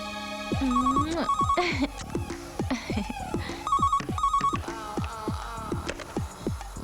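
A mobile phone rings with a bright electronic ringtone, repeated warbling tone bursts in a rhythmic pattern, loud and close, with no speech over it.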